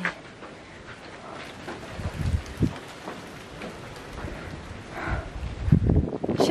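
Rain falls near Lempuyang Temple in Bali, hissing softly and steadily with scattered louder bursts of nearby drops and gusts.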